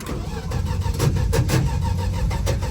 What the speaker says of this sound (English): Don't worry about the horrible starter noises.